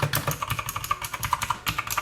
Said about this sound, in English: you can hear the clicky tactile feedback that comes with the blue switches that are inside of this keyboard